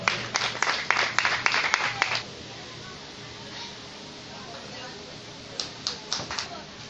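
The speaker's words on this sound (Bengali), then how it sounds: "হাতে তালি দাও।" At an Eid clothing distribution event held by a club in Raina, Purba Bardhaman, a crowd claps in a quick burst for about two seconds, then falls quiet before a short second round of claps near the end.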